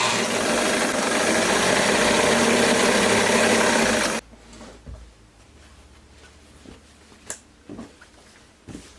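A sewing machine topstitches a child's jumpsuit with a loud, steady whirring hum for about four seconds, then stops abruptly, leaving faint handling clicks and rustles.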